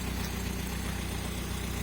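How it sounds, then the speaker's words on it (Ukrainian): A Volkswagen Crafter van engine idles steadily with a low, even rumble, close by and unchanging throughout. "зараз по черзі мотор зараз працює."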